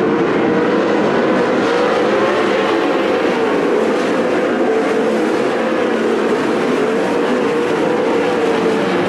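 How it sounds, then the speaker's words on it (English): 410 sprint cars racing at Attica Raceway Park form a continuous loud, dense engine roar with a slowly wavering pitch, a steady pack sound with no pauses. "Schaefer, Conley, trades spots, positions on the racetrack, down the backstretch, new leader Tim Schaefer on lap 14"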